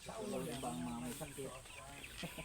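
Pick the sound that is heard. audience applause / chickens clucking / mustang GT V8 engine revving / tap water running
chickens clucking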